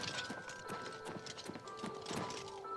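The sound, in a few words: horse hooves clip-clopping in video game Oblivion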